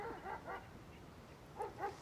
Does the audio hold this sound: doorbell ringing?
no